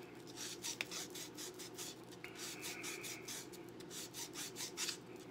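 Metal file and sandpaper rasp against a coin ring in steady, close repeated strokes, a quiet rhythmic scraping with no talk.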